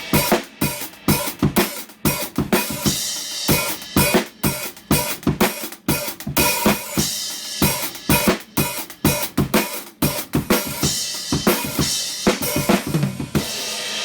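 Full drum groove with a busy hi-hat pattern over punchy kick and snare hits, played in 13/8 phrases; loud, steady and rhythmic throughout with no talking.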